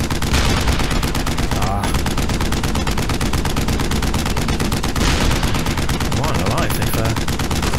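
Sustained gunfire in Hell's Highway, a dense, loud, continuous stream of rapid shots with explosions and battle noise, while a voice speaks briefly over it.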